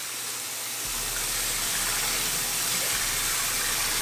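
Water gushes steadily from a tap into a container to mix a shoe cleaning solution, a loud, continuous hiss close by that starts abruptly and runs without talk.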